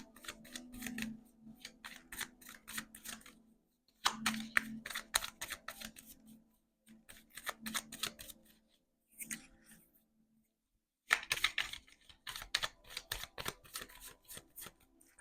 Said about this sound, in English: just listening to cards shuffle